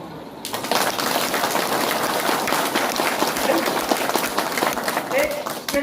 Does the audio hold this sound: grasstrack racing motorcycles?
no